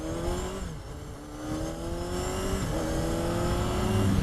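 A 1988 Honda CBR250R MC19 motorcycle revs while riding, its high-pitched engine note climbing and dropping through quick gear changes, close and steady over wind rush with no talk.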